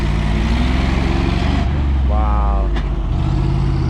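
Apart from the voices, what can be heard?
crash cleanup truck passing on the road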